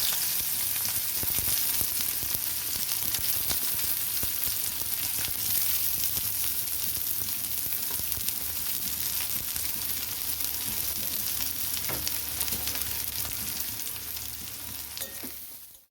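Onions hit very hot oil tempered with kalonji (nigella seeds) and sliced chilies, producing a dense, continuous loud sizzle with crackling pops and light stirring, no voices.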